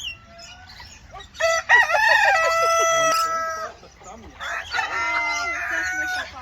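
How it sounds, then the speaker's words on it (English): A chicken clucks and crows nearby in a bird park, a loud, drawn-out cock-a-doodle-doo in two bursts with clucks between, close and clear under faint background talk. "A chicken coming. Look at that."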